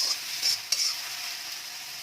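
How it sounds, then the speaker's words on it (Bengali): Onion and capsicum stir-fried in a pan for chicken Manchurian give a soft, steady sizzle with a few brief scraping stirs near the start, quiet and close, with no talking. "এটাকে এখন একটু ভাজা করে নেব। 1-2 মিনিট ধরে একটু ভালো করে নাড়াচাড়া করে"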